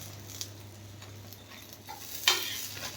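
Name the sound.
aloo paratha frying in ghee on a pan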